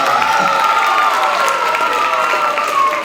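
Audience at a middle school production of The Wizard of Oz applauding and cheering for student actors, a loud continuous wash of clapping with shouts and cheers throughout.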